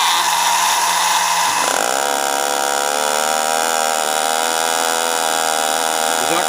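A Marx Big Job toy dump truck's small electric motor whirs steadily and loud after being freed up, with a buzzing, slightly rising mechanical whine that holds continuously with no talk.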